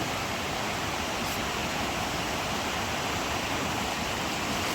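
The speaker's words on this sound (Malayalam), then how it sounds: "ഒഴുകുന്ന അരുവി" A stream in Nelliyampathy rushes steadily with a dense, continuous roar of flowing water, loud and close, with no voices.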